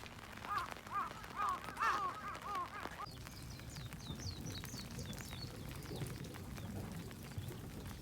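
Crows caw on Rabbit Island in Japan: a burst of harsh, rasping caws, then higher, thinner calls further off, over steady outdoor ambience.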